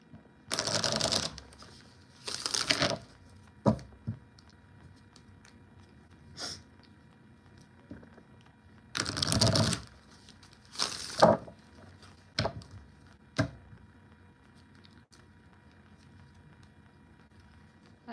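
Tarot cards shuffled for a reading, with several soft riffling bursts separated by quiet pauses and a few small taps, close and fairly faint.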